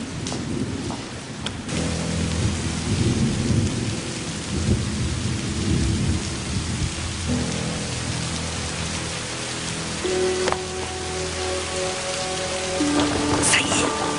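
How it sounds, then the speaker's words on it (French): A heavy downpour hisses continuously while deep thunder rumbles and rolls beneath it, loud and enveloping, with a few faint tonal sounds toward the end. "Déluge. Mais quel déluge."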